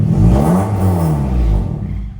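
A Honda Civic FD engine revving during a throttle body relearn, a steady loud mid-pitched drone that rises and dips slightly before easing off near the end.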